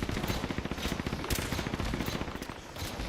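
Rapid bursts of pistol gunfire in a video game crackle in a dense, fast series of sharp shots, fairly faint and without speech.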